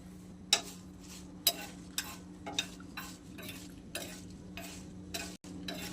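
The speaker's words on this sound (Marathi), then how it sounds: "मिरची पण आपण थोडीशी भाजून घेणार आहे तेलात, म्हणजे अशीच भाजणार आहे, तेलात नाही भाजणार आहे" Dry chilies are roasted in a pan without oil while being stirred, giving a series of scraping, rattling strokes spaced about a second apart over a low steady hum, close and moderately quiet.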